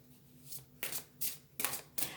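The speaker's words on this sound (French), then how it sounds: "Allez, on va y mettre une carte des clés du destin." Clés du destin oracle cards rustle and slide as they are shuffled and one is drawn from the deck, with several soft swishing bursts close by and quiet in between.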